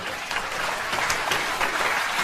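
A large comedy-club crowd of about 2,400 applauds in a steady, dense wash of clapping that holds at a constant level.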